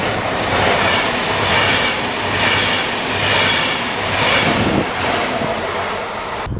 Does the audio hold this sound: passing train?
yes